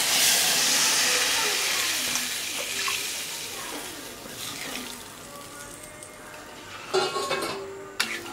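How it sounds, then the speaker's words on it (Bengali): Water poured into frying chicken for a Bengali chicken curry hisses and sizzles loudly at first, then settles into a quieter bubbling, with a couple of sharp pot clinks near the end. "এবার এর মধ্যে দিয়ে দেওয়া হবে জল।"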